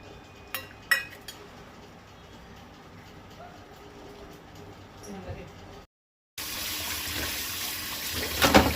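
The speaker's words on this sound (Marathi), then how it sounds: "मिठाक लावन दवरलेली शेतका आता 2-4 खेपो धुवन घेता" Salted shetka fish being rinsed in water in a kitchen sink, a few clinks of utensils followed by a steady gush of running tap water close by.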